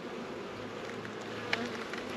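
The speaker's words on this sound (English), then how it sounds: "A lot of bees, goodness." Honey bees buzz in a hive during spring hive inspection, making a soft, continuous droning hum close by, with a few brief brighter flickers.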